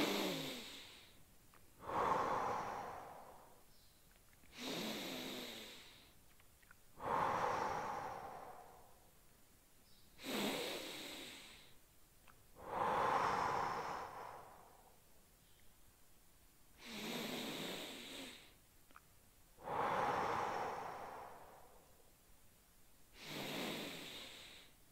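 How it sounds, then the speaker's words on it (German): Deep, slow breaths during a stretching exercise, chin held to the chest, with long inhales and exhales repeating about eight times in a steady rhythm, close and fairly quiet with no talking. "Und jetzt atmen wir hier fünfmal tief durch."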